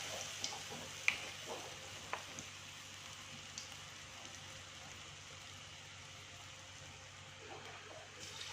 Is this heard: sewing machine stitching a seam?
no